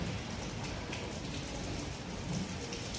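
Steady heavy rain pours down continuously, a dense even hiss with no speech.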